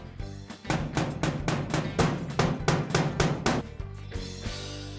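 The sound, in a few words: hammering decorative nails into stamped metal ceiling panels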